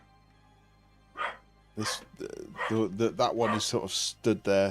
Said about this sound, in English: Oh, sorry about the dog barking.